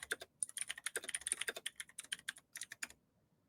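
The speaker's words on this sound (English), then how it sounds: "I can type." Fingers type quickly on a computer keyboard, producing rapid clusters of close, crisp key clicks that pause briefly near the end and then finish with a few last taps.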